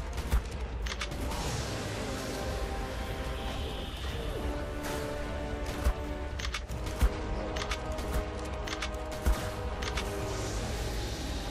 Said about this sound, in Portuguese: 6 tiros nele pra quebrar